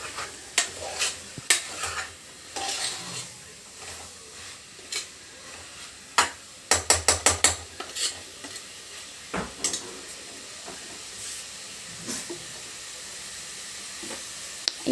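Pulao stirred and mixed in a home cooking pan, spoon scraping and clattering in irregular bursts over a low sizzle, with a quick run of sharp metallic taps midway; no talking.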